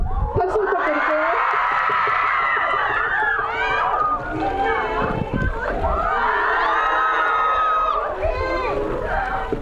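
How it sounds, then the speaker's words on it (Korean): An audience at a Korean film screening event with a guest appearance cheers and shouts excitedly, a loud dense crowd of high-pitched screams and whoops that swells and dips, with talking mixed in. "박수 부탁드릴게요."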